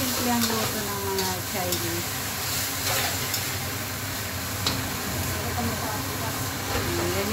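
Vegetables with garlic, celery leaf and bell pepper stir-fry in a hot pan, a loud continuous sizzle and hiss with scraping stirs throughout, while a person talks over the cooking.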